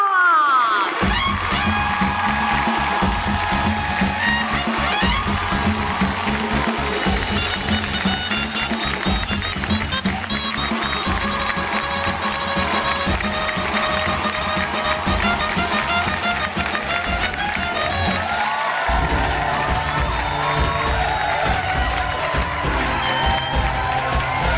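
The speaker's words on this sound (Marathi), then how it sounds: "जोरदार टाळ्या होऊन जाऊ दे" Audience at a televised Marathi ladies' show cheering and clapping for a winner, a dense, loud, sustained roar of applause with whoops and music underneath throughout.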